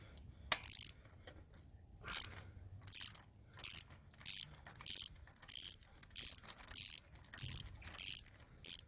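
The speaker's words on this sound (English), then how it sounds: "right now I'm just gonna put this socket on the ratchet and start taking out the spark plugs" A ratchet with a magnetic spark plug socket works loose the plugs on an Acura TL engine. It gives a dozen short, bright bursts of rapid clicking at a fairly even pace, close up and with no talking.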